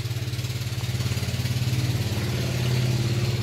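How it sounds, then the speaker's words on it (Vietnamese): A motor boat engine chugs on a river close by, a loud, steady pulsing drone with a regular beat that swells slightly toward the end as the craft passes. "cho nên ghe tàu chạy qua."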